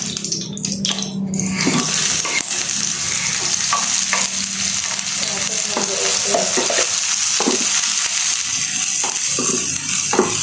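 Shallots frying in a pan as they are stirred, a dense continuous sizzle with intermittent scraping and clattering, close and fairly loud, with no talking.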